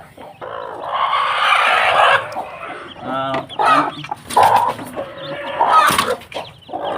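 Hens with newly hatched chicks cluck and squawk repeatedly, close by and fairly loud, in irregular bursts with a brief voice among them.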